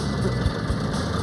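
A boat motor idles on a river with a steady low rumble and faint mechanical vibration, close and continuous throughout the short stretch.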